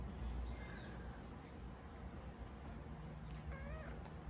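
A pet cat meowing indoors during rain, two short faint meows a few seconds apart with quiet background noise between them.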